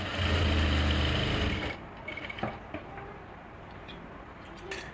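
A sewing machine stitching a trouser hem runs in a loud steady whirring burst for under two seconds, then stops, leaving faint clicks and handling noises.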